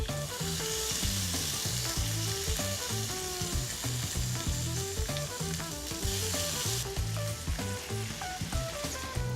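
Boiled pumpkin pasta, drained and tipped into a hot pan, fries with a constant loud sizzle and crackle, with stirring knocks and scrapes throughout and no voices.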